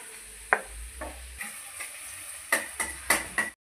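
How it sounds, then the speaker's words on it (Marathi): Onion frying in oil over a medium flame, a steady sizzle broken by several sharp scrapes and clinks of a spatula against the pan, with no talking. "पूर्ण हा कांदा तळून घेणार आहोत"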